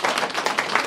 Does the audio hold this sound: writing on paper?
no